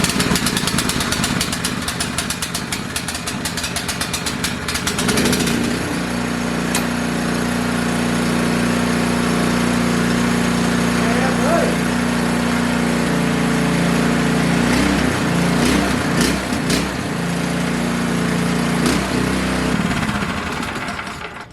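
MXR212/MXR420 small engine cranks and fires right up at about five seconds, then settles into a steady, loud idle that runs alone without talk for the rest of the clip.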